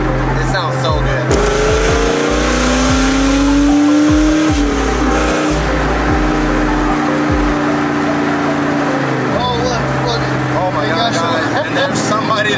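A 2003 Mustang Cobra with a 530-horsepower engine pulls hard while driving, its loud rising engine note climbing through the gears with a shift, heard from inside the car alongside talk.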